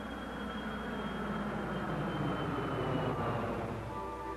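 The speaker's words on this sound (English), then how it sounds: "Now the acoustically treated plane." A 1970 jetliner fitted with acoustically treated engines passes overhead as a quieter, even rushing drone with a faint high tone, steady throughout and without speech.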